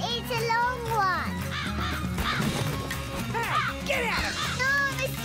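A cartoon crow caws repeatedly in a takeaway food scene from a children's show, loud harsh calls recurring over busy background music and lively children's voices.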